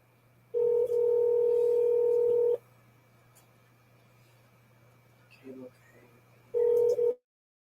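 A telephone call's ringback tone plays two long, steady, even buzzing bursts separated by a lengthy silent gap, with a faint constant hum underneath.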